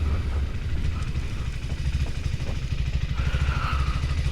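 A 2025 KTM 390 Adventure R motorcycle under way on a highway, its engine a steady low drone mixed with heavy wind rush, continuous and close, with no talking.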